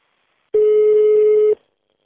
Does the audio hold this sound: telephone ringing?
yes